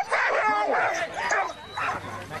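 Sled dogs at a dog sled race in Saint-Luc-de-Vincennes yip and bark in quick excited bursts, close and loud, with a voice talking over them.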